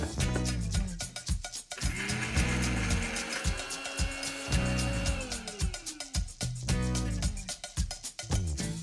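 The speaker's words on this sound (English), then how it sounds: "I'm going to grind this without using any water." A kitchen grinder whirs through dry anardana, cumin seeds and a piece of cinnamon with no water, a loud rattling motor drone in bursts, stopping and restarting, with hard seeds clattering against the jar.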